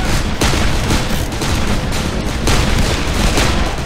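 Revolver gunfire from a break-open Colt in the video game Darkest of Days, amid a dense, continuous battle din of shots and booms that stays loud throughout with no clear gaps between reports.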